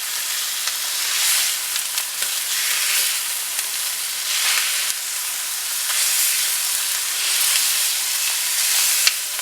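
Ground beef and lean ground pork fry in a pan with a steady, loud sizzle and crackle, close up and continuous, with occasional stirring scrapes and no talking.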